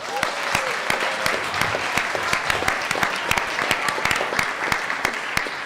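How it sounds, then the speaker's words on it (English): Audience applause at a political panel discussion in London, a lively spread of many hands clapping with some sharp individual claps standing out, continuing throughout. "A round of applause for Laleh."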